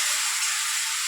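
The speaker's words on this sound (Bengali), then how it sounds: "এরপরে পেঁয়াজ কুচিগুলো দিয়ে দিচ্ছি।" Chopped onions hit hot oil with a little sugar in a wok, giving a loud, close, steady hissing sizzle.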